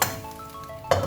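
A lid set onto a cooking pot while making Kerala-style corn uppumavu, one short metallic clink at the start and a second clatter near the end, close and moderately quiet.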